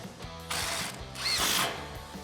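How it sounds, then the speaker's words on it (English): A hand ratchet drives a 12mm socket onto a factory bolt on a truck's front spindle bracket, giving two short bursts of rapid pawl clicking, close by and moderately quiet, with no voices. "Thread that factory bolt in by hand, tighten that up with a 12mm socket."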